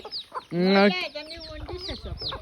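Local hens on a small farm cluck and cackle up close, one drawn-out loud call followed by shorter clucks, with a few faint voices nearby.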